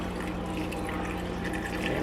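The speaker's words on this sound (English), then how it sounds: "So I have some water here I'm going to add. So this is 2 cups of water." Two cups of water poured into a soup pot for Portuguese caldo verde, a steady close splashing rush of liquid that runs unbroken and slightly swells toward the end.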